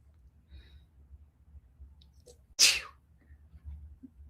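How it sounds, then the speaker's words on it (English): A single sharp sneeze bursts out against quiet low background hum. "I have to sneeze"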